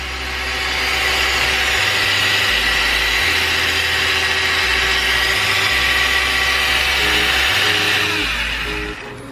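A nitro- or gas-powered RC car engine held at full throttle, a loud, steady high-pitched whine that runs continuously with a slight rising and falling pitch and no voices over it.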